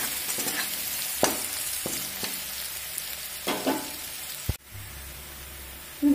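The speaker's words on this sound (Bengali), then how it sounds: "এখানে দিয়ে দেব বড় সাইজের একটা পেঁয়াজের কুচি।" Large chopped onion frying in tempered oil for a soya dal, giving a steady close sizzle with a few sharp stirring clatters and a louder scrape near the end.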